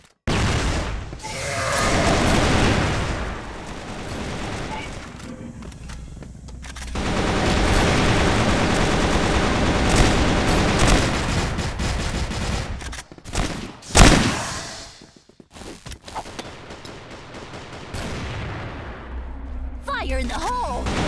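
Dense gunfire from the CrossFire first-person shooter game, sustained rapid automatic bursts with a sharp flash bomb blast near the middle, loud and close, with game voices calling out over the shooting.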